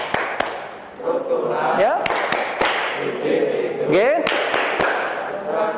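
A classroom of students claps a patterned 'social mobility' clapping rhythm, with sharp separate claps in short bursts mixed with voices chanting and a teacher talking throughout.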